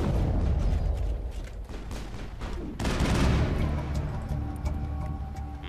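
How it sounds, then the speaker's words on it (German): Sustained gunfire and explosive blasts from a firefight in the video game Mass Effect, loud and dense throughout, with a sharp burst of heavier fire midway. "Das macht es echt nicht leichter zu zielen, während man beschossen wird."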